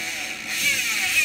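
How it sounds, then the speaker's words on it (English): A spinning Torch Classic bicycle freehub gives a fast, continuous ratcheting buzz, a smooth high-pitched clicking whir heard up close and fairly loud, with no talking. "Here we've got the Torch Classic free hub."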